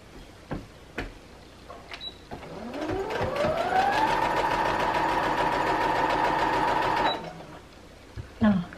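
Sewing machine motor spins up and runs steadily for several seconds while quilting, then stops, with a few faint clicks of handling before and after.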